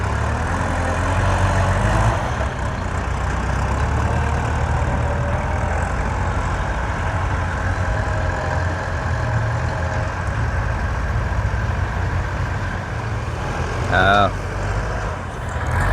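A tractor bulldozer clears and levels soil, its heavy diesel engine rumbling low and steady close by throughout, with a brief rattling clank near the end and a voice faintly under the noise.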